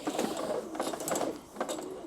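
A pressure washer hose reel on a Giraffe Grandfalls unit winds the hose back in after a guide fix, making a short, close whirring and ratcheting mechanical rattle that briefly pauses and then resumes.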